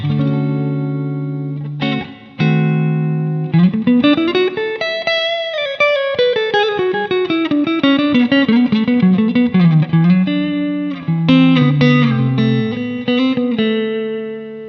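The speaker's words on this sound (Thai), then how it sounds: "ลองเปลี่ยนเป็น JC 120 นะครับ น่าจะเป็นตัว Jazz Chorus ของโรแลนด์" Electric guitar played through the Jazz Chorus JC-120 amp model on a NUX Mighty Plug headphone amp: clean, sustained chords followed by a flowing single-note melodic line with bends, steady and close, with no talking.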